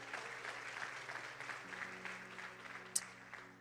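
Church congregation applauding during a sermon, sustained crackling hand claps from a crowd held at a moderate, even level, with a low hum underneath and one sharp knock near the end.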